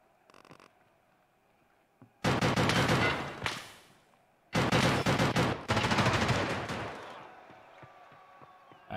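An M4A1 rifle in a video game fires in long loud automatic bursts, three sustained volleys of rapid shots separated by short pauses, close and dominant.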